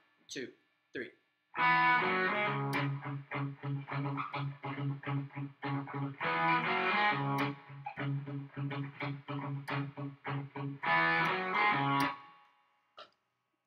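A main guitar groove, a punchy, rhythmic riff of repeated low chords with distorted accents, played in bursts with short pauses between phrases; a voice briefly counts at the start.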